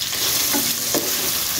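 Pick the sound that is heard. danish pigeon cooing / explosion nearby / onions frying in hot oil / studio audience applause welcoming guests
onions frying in hot oil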